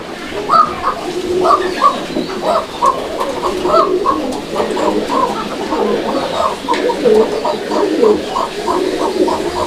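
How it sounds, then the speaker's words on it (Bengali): A pair of Bashiraj pigeons cooing close by, repeated throaty rolling coos in an uneven rhythm that overlap from both birds and continue throughout. "কবুতরটার ডাকটা দেখা দিই ভাই"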